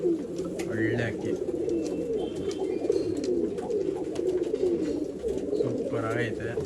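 Pigeons coo in low, repeated rolling calls at a pigeon sale in Bangalore, layered and continuous, with people talking over them and a few higher chirps.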